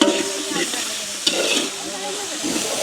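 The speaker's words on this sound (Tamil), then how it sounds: "பார்த்திங்கன்னா வெங்காயம் பச்சை மிளகாய் எங்களுக்கு வதங்கிட்டுது" Onions and green chillies with curry leaves sizzle and fry in a pan, stirred continuously, a close, steady crackling hiss with a brief clank of the spoon partway through.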